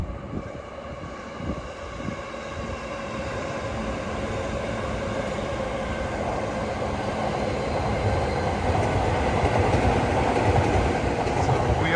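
A train runs along tracks behind bushes beside a walking route on Tokyo's Yamanote Line, a steady loud rumble with rail rattle that swells toward the end, heard up close with no talking.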